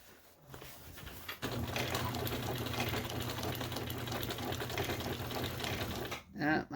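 A sewing machine stitches through a thick cymbal bag with a close, steady, rapid mechanical chatter and hum lasting about five seconds, ending as a voice speaks.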